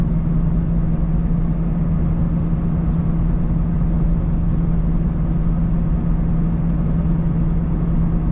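Steady low engine rumble from a 2006 Honda City while driving in fourth gear in Islamabad, a constant, even drone with muffled road noise throughout and no voices.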